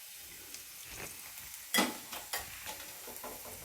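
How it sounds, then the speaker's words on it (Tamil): Spices with curry leaves frying in a pan for lemon rice, a soft steady sizzle broken by a few brief spoon scrapes and clinks, one sharper knock near the middle, no voices. "எல்லாம் சேர்த்து கொஞ்சம் நல்லா ப்ரௌன் ஆகிற வரைக்கும் வறுத்துக்கலாம்"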